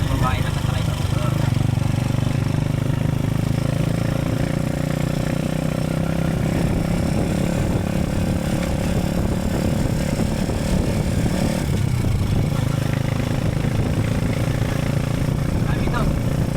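Motorcycle engine droning steadily as the bike rides along, a constant low rumble with rattling clatter that runs the whole time while people talk over it.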